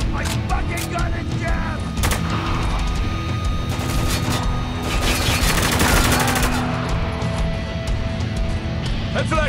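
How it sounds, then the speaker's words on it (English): Heavy gunfire in the video game Spec Ops: The Line, with rapid automatic bursts and booming impacts layered loudly over a continuous battle din, mixed with shouting voices. "Shit, man, we're taking some heavy fire!"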